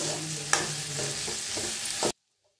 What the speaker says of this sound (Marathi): आता हे बनवून घेतला होता मसाला बघा, ते बी टाकूया आपण। त्याला भाजून घेऊया।